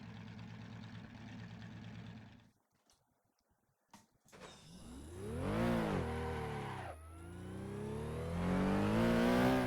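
A Porsche race car at full throttle on the Nordschleife: after a brief lull, the engine's howl climbs and falls through loud, close revving sweeps with gear changes, building steadily toward the end.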